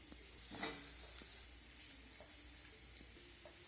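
Potatoes fry with a little turmeric powder in a pan, a faint, soft sizzle broken by occasional light scraping stirs close by.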